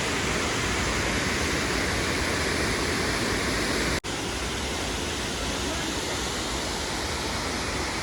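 Loud, continuous rush of flowing water, close and unbroken, like a fast stream pouring over rocks.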